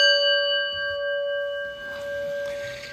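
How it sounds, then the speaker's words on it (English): A prayer bell struck once, ringing out with a clear, sustained metallic tone that lingers and slowly fades, close and alone. "let me ring the prayer bell"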